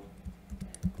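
Light, soft keystrokes tap on a computer keyboard while text is typed in Photoshop, a quick irregular run of several presses heard quietly and close.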